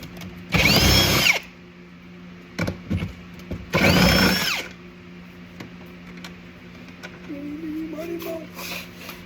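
A power drill backs out the rear seat bolts on a C5 Corvette, two loud whirring bursts about a second long each, close up, with clanking and a voice talking afterward.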